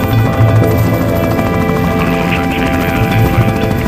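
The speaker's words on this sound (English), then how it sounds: "I never thought I'd be in a helicopter right about now, flying over Papua New Guinea." A helicopter flying over Papua New Guinea, heard from inside the cabin as a loud, steady rotor and engine drone with a faint rhythmic thumping throughout.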